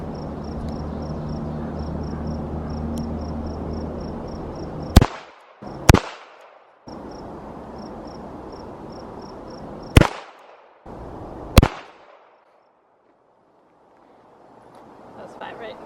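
Four sharp, loud gunshots from a .38 snub-nosed revolver fired at a target, spaced unevenly with the last two several seconds apart, each cutting through a steady outdoor background hum and insect chirps.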